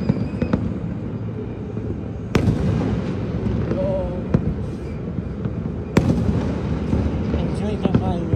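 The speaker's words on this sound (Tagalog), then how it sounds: "The fireworks are beautiful." New Year fireworks bursting outdoors, sharp distant bangs and crackles every few seconds over a dense roar of crowd noise and voices, with a couple of louder nearby reports standing out.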